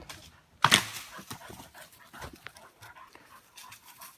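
A dog panting heavily while playing with a PVC pipe, with a sharp knock or bark-like burst early on, followed by rapid breathy pants and small thumps nearby.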